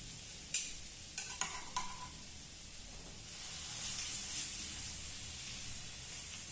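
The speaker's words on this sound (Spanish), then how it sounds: "No uso mucho aceite porque la idea es que solamente selle al pollo, no que lo fría." Quiet sizzling of chicken searing in a little oil in a pan for arroz a la jardinera, with a few clicks of utensils early on and a soft hiss that swells midway.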